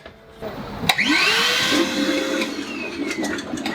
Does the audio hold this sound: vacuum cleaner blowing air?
yes